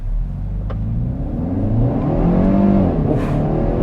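A 2021 Kia Forte GT with a 7-speed dual-clutch launches at full throttle, its engine revving up close and loud in steady climbing pulls through the gears, with no talking.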